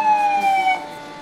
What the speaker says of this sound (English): We've got a few fire trucks.